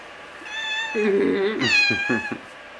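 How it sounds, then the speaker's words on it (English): A cat meows loudly and close by, a drawn-out cry followed by a few shorter, choppier meows. "That's a cat."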